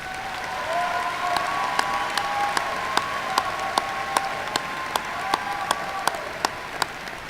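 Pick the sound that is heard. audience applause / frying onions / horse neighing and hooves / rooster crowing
audience applause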